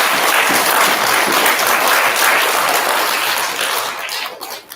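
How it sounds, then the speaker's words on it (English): A crowd of adults and children at a school gathering claps for a third grade class, a dense, loud, sustained applause that thins out and fades at the end. "Can we give a big clap for Miss Hayes?"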